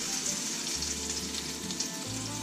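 Zucchini fritter batter hitting hot oil for a test, giving a steady broadband sizzle and crackle that runs throughout, close by, with a low hum underneath and no talking.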